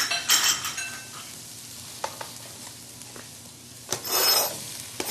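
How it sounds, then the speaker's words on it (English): Mixed vegetables sauteing in a pan for a stew, a soft steady sizzle broken by two louder bursts of stirring and scraping, with a few light clinks of utensils; no talking. "while these vegetables are sauteing, I'm going to add some stock to them"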